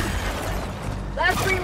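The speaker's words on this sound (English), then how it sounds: "Last reload!" A weapon magazine is reloaded in the Helldivers 2 video game, giving a brief mechanical clack and rattle over loud game noise, with a voice speaking at the same moment.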